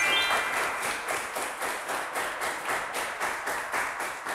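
Studio audience on a French quiz show claps in a steady, rhythmic unison beat for a correct answer, a fairly close, even patter of hands repeating about every third of a second.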